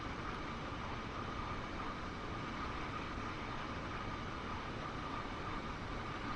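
A train in the Train Sim World 2 video game running at high speed downhill, giving a steady, dense roar of rail and wheel noise that stays loud and unbroken throughout.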